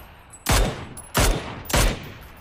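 Three loud, sharp gunshots ring out about two-thirds of a second apart in a shooter video game. Each crack is followed by a short decaying tail, with no talking.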